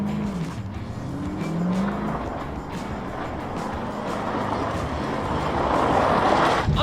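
Chevy Corvette powering hard through a turn on a race track, a loud continuous engine roar with rising pitch and tire squeal building toward the end, heard from inside the car with no talking.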